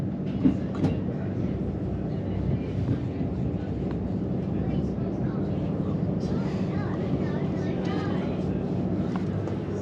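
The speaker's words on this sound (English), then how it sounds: "that involves the train having to negotiate an incredibly complex series of points." Southern passenger train rolling over a complex series of points near Wembley Yard, a steady rumbling run with scattered clicks and clanks from the wheels, heard close and continuous with faint talk underneath.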